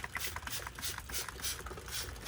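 Roof wash sprayed from a hand spray bottle over a dirty area: repeated rhythmic trigger squeezes each giving a short hissy spurt, close by, with a constant low rumble of machinery underneath and no talking.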